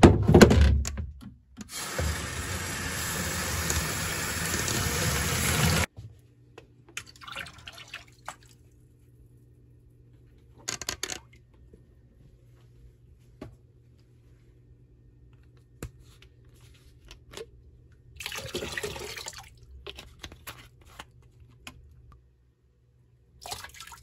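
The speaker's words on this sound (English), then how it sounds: "we soak the shoes in the tub of water" Shoes soaking in a tub of water produce a loud splashy burst at the start, then sparse drips, small sloshes and light knocks separated by near silence, with another brief water swirl later on.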